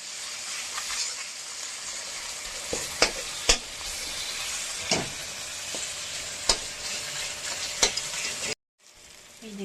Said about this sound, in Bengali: টমেটোটা দিয়ে দিলাম পেঁয়াজের সাথে, অল্প হালকা নুন দিয়ে দিলাম। টমেটোটা তাহলে ভেজে যাবে তাড়াতাড়ি।